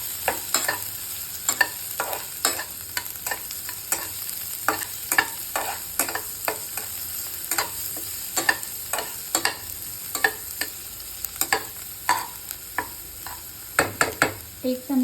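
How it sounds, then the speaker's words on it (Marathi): Ridge gourd gravy stirred in a frying pan, heard as a steady run of close, sharp scraping strokes against the pan over a constant faint sizzle. "छान हलवून घ्यायचं."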